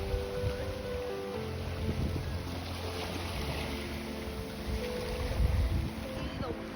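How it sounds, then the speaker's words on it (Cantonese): A boat out on the sea off Koh Lanta near a cliffside restaurant, heard as a steady low engine drone with wind and water wash, with people talking over it throughout. "你覺得嗰隻船喺度做乜鬼啊？"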